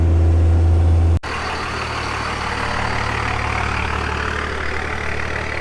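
Dodge Cummins diesel truck engine idling steadily up close, a low continuous rumble with an even, unbroken drone after a short louder start.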